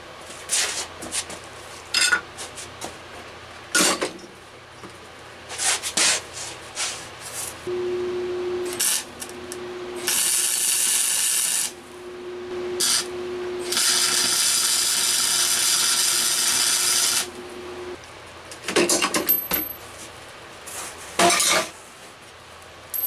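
Mounting a 5HP motor onto a motorized drift trike: scattered metallic clinks and tool knocks, broken up by two long bursts of a power tool whining steadily for several seconds.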